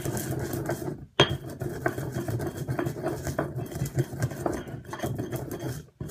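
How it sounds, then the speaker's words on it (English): Coriander seeds ground for a Yemenite zhug pepper paste, a loud, steady mechanical whirring and rattling that cuts out briefly near the start, then resumes, with scattered clinks close by. "we're going to do the same with the coriander seed. Get that in there, and we're gonna grind that up"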